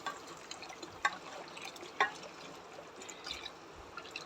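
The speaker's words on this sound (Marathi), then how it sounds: "छान गरम पाणी घालून घ्यायचं पण आमटीमध्ये." Hot water poured into a Satara-style katachi amti curry, a steady liquid splash and trickle with a couple of sharper drips near the middle, fairly close and alone.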